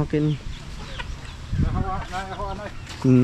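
Chickens cluck in short, repeated bursts close by, with a few louder squawks among them and outdoor rustling underneath.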